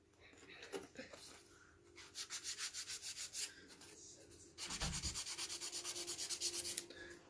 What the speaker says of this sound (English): Well, that's not easy filing on one of these